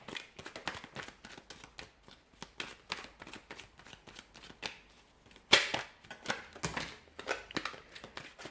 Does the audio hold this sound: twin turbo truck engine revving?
no